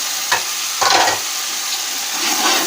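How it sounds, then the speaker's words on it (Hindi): Carrots are tossed into a hot pan of vegetable pulao and stirred, giving a steady broadband sizzle with two louder bursts of stirring scrapes near the start and more activity toward the end, with no talking. "अब मैं गाजरें डाल दूंगी।"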